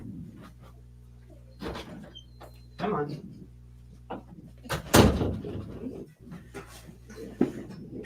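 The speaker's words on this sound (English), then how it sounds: "he's scratching at the door." A dog scratches at an indoor door, and then the door opens, giving intermittent scrapes, knocks and a louder thump of the door moving, with a person speaking quietly.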